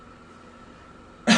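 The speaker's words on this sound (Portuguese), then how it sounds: "desculpa pela tosse" A single short cough breaks in at the very end after quiet room tone, loud and close, during a lecture on signal convolution.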